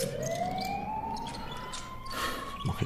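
An ambulance siren wails as a single long rising tone that levels off, steady and moderately loud against a noisy background, with a couple of dull thumps near the end.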